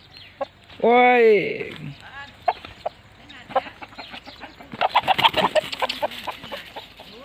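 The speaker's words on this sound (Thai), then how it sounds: "เอ้ยไก่นี่" Farmyard chickens on a rural Thai homestead, kept near a pig pen, give a few clucks, including one loud drawn-out call near the start, amid a man's exclamations and nearby talk.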